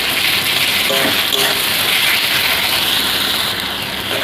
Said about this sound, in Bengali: রসুনটা ভালো করে একটু ভেজে নেবো।